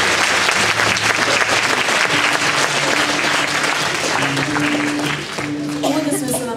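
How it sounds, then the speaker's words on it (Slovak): A concert crowd at a Christmas performance claps loudly and continuously, a dense wash of hands with faint musical tones ringing underneath, easing slightly in volume toward the end. "Tak si zatleskame."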